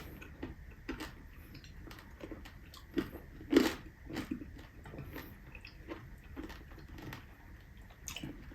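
Crisp bites and crunching into crispy lechon liempo, a roasted Filipino pork belly, at a close-up meal: repeated short crunchy clicks over several seconds, with one louder crunch in the middle.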